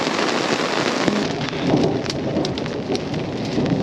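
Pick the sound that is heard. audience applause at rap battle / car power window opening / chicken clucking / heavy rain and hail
heavy rain and hail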